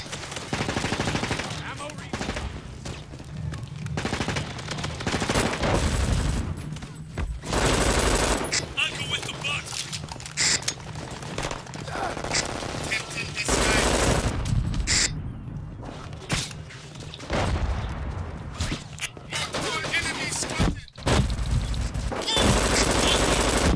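Rapid automatic gunfire in the video game Brink, bursts of machine-gun shots and explosions close by, with in-game voices and a player talking over the shooting.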